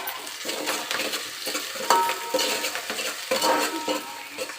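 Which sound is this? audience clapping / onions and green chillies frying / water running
onions and green chillies frying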